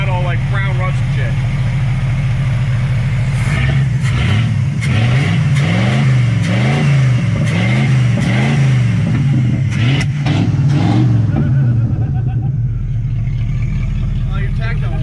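A Chevrolet Camaro with a 305 V8 fires up cold after six years of sitting, settling into a loud rough idle and then blipped through a series of rhythmic revs up close, with people talking over it.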